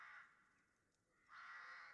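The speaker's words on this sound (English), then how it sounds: "in the distance, you can hear the sound of carrion birds squawking all throughout the tower" Carrion birds cawing as a tabletop game ambience effect: two harsh crow-like squawks, one short then a longer one after a pause, fairly close and clear, followed by an abrupt click.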